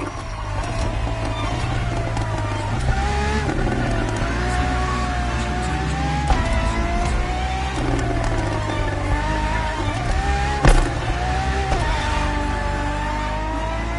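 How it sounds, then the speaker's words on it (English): In the video game Motorfest, a Ferrari FXX K supercar's engine whines and drones with repeated rises in pitch as it accelerates and shifts. A sharp knock lands near the end, over a low, steady rumble. "For this second lap, you'll be driving the FXXK."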